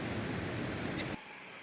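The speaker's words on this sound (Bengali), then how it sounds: "আর তার মাঝে কটেজে বসে নুপুরের মতো বেড়ে চলা নদীর একটানা বয়ে চলার শব্দ" A river beside a hillside riverside stay at Shivakhola in the Himalayan foothills rushes in a steady, dense hiss that stops abruptly, leaving only faint background.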